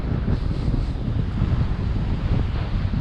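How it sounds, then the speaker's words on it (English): Strong wind buffets the microphone in a constant low roar on Fort Lauderdale beach, with the wash of surf blended in beneath it. "really windy today"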